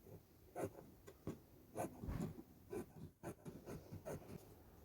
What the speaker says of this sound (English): I think now I'm just going to trim off some of this excess.